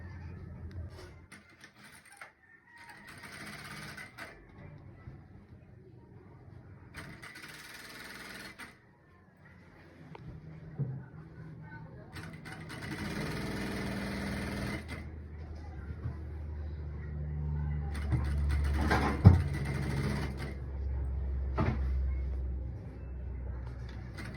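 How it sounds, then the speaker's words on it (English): A sewing machine stitches Ankara fabric for a fitted bubu dress, running in several short, fairly quiet bursts separated by pauses, with a longer, steadier run toward the end. "Now I want to start the stitching."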